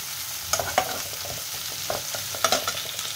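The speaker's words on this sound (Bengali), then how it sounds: "টমেটো, এটা ভাজা হয়ে যাচ্ছে।" Nigella seeds, green and red chillies and tomato frying in oil in a pan, with a low steady sizzle broken by several sharp stirring clatters and spits near the microphone.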